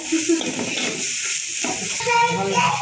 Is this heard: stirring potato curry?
yes